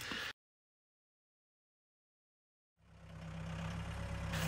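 A Mahindra 1538 38 hp tractor engine runs while driving backwards, a steady mid-low droning hum that cuts in after a silent gap and grows louder, following a brief burst of sound at the start.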